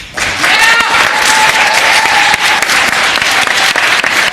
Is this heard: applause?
yes